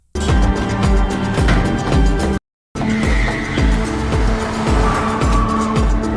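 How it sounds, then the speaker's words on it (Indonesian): A car skids and squeals across a slippery wet parking lot road, loud engine and tire noise running steadily with a brief cut to silence partway through. "membuat mobil yang membawa Ucil tergelincir akibat jalan yang licin"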